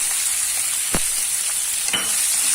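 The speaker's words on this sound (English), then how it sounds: "Light sauteing till it becomes a little light pink in color." Onions with curry leaves, green chilies and hing sautéing in hot oil, a loud steady hiss with two sharp spatula knocks close by.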